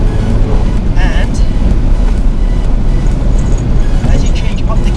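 Mini Cooper S R56 fitted with a John Cooper Works exhaust, its engine droning steadily and loud from inside the cabin as it drives, with someone talking over the continuous engine and road noise.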